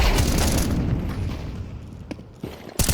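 A flashbang grenade detonates in Counter-Strike 2, a loud broadband blast that fades over a couple of seconds, followed by a few sharp smaller clicks and another sudden burst at the end.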